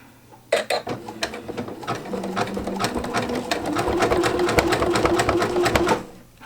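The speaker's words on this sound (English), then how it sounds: "And then I'm going to back stitch just to make sure that I get it nice and locked in there." A sewing machine back stitches through a jelly roll rug, starting with a few sharp clicks and then whirring in a steady rapid rattle that builds and holds before stopping, close up with no talk.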